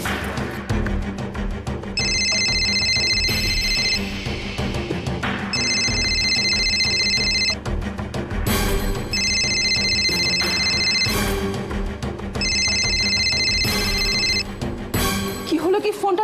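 A telephone rings unanswered in four evenly spaced bursts of bright, steady electronic trilling, each about two seconds long with short gaps between them, heard over a busy, continuous background.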